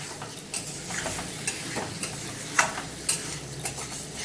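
Chicken curry being stirred and sautéed in a pot, with repeated scraping and clinking strokes at an irregular rhythm over a steady soft sizzle, close and moderately quiet.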